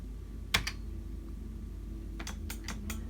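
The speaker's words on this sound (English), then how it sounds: "Let me get my keyboard." Computer keyboard keys clicking in a quiet room, a single sharp keystroke followed after a pause by a quick burst of several taps, over a low steady background hum.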